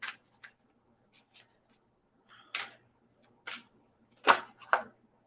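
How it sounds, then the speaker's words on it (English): Tarot cards being shuffled by hand, giving short papery riffles and soft slaps in separate bursts that grow more pronounced toward the end, with quiet pauses in between. "let me shuffle up for Crystal."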